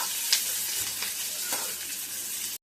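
Onion sautés in hot oil in a pan, producing a steady bright sizzle with a few soft stirring scrapes, close and alone.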